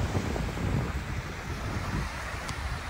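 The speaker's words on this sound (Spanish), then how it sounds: "Doris disfrutando de sus olitas" Surf rolling onto a windy, empty beach at San Carlos, a steady broadband wash with gusting wind rumble over the microphone, no voices.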